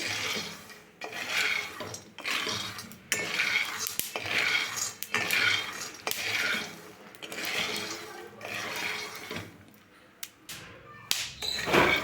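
Peanuts roasting in a pan are stirred in rhythmic repeated sweeps, a close, rasping rattle of nuts scraping against metal that rises and falls with each stroke.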